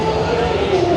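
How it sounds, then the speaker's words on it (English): Dense, steady crowd murmur at the HoloLive booth at the Anime NYC convention, many voices blending into a continuous loud hubbub with no distinct words. "There's a big crowd there."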